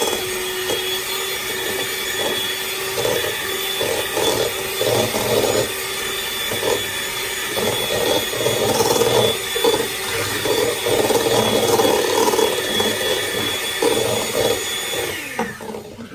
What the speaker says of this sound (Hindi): पहले हम घी को बीट कर लेंगे।